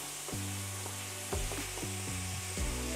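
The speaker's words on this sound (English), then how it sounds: "We'll start adding our ground beef. And we're just gonna start getting that crumbled up as it cooks." Ground beef frying in a pan over medium heat, a steady close sizzle with periodic scraping stirs as the meat is crumbled, no voices.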